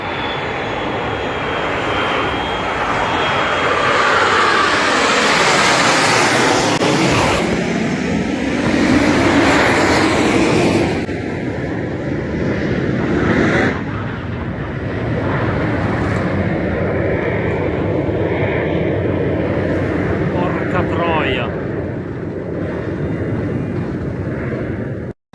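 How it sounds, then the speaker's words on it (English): An MB-339 jet of the Frecce Tricolori display team, departing a display in Turin, Italy, as it drops out of its climb: a loud, continuous jet roar with shifting pitch, sustained throughout. "During a display departure, a Frecce Tricolori Imbil 339 drops out of the climb and the pilot ejects."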